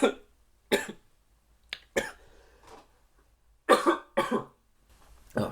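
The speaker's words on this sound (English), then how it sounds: "I got a bit of a cough. Had a tickle in my throat." A person with a tickle in the throat coughs repeatedly, several sharp close bursts separated by short pauses, some in quick pairs, with quiet breathing between.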